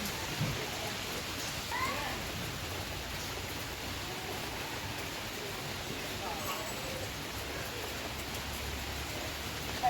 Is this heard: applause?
no